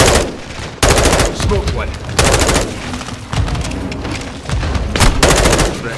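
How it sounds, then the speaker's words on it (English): Gunfire and grenade launcher blasts from a Modern Warfare 2 battle, loud, repeated bursts of automatic fire with heavy booms in a dense, continuous firefight, with shouted voices over the shooting. "Incoming! Take cover! They're launching grenades!"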